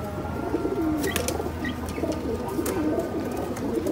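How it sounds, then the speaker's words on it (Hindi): Pigeons coo in low, rolling throaty phrases, repeated over a steady background hum, with a few faint chirps scattered on top. "कबूतर पता नहीं क्या कर रहे हैं"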